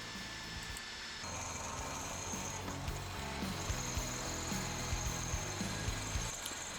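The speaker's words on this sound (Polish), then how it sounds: "tata trasuje otwory, punktuje i wierci miejsca na wkręty, by ją przykręcić" Power drill boring screw holes in a wooden shelf, a continuous close whir that starts after a second and runs steadily to the end, with faint grinding through the wood.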